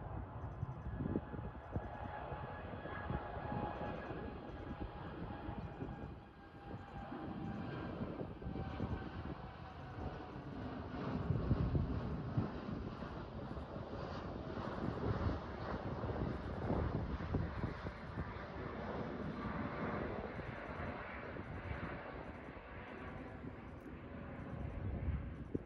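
Jet airliner taking off from a Haneda Airport runway, heard as a sustained broad engine roar that swells and holds for the whole stretch, with wind buffeting the microphone and no talk.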